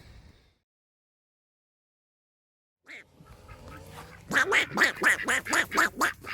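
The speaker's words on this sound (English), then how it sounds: "There's the duckies." Ducks quack in a rapid, loud run of calls at close range after a near-silent pause and a few rustling sounds.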